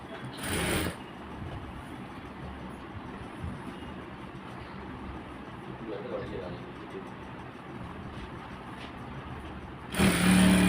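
Sewing machine stitching the doubled fold of a straight pant hem, running as a steady continuous mechanical whir through most of the stretch, with a brief louder burst at the start and another at the end.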